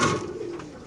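Pigeons at a racing pigeon farm give a short, soft, low coo lasting under a second, fairly close and alone.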